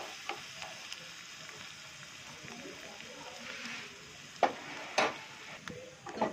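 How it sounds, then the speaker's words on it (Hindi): Chopped garlic fries quietly in a pan for a lauki raita, giving a faint, low sizzle with a few sharp clinks of stirring near the end. "और इसको थोड़ा सा भून लेंगे।"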